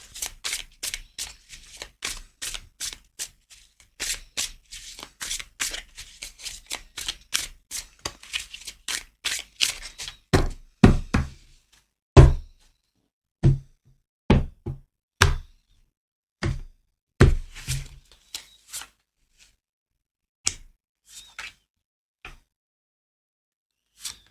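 Tarot cards are shuffled and then laid down one at a time in a close, quiet room: a rapid series of soft taps gives way to separate, louder thumps spaced a second or two apart.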